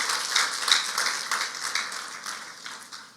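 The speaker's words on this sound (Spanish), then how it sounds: "Un aplauso fuerte al Señor." A church congregation at a congress applauds together: dense, steady clapping from a sizable crowd, moderately loud and continuous, slowly thinning toward the end with no voices over it.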